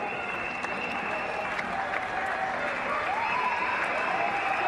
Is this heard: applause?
yes